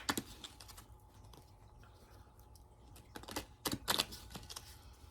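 Quiet, close-up papery shuffling of oracle cards and soft tapping clicks come in irregular bursts, growing busier toward the end, with no voices.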